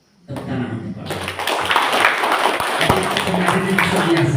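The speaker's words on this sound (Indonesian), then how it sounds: "Tepuk tangan untuk Bapak." An audience at a school book launch at SMA Negeri 2 breaks into clapping for a teacher, a burst of applause rising quickly and continuing with voices mixed in beneath it.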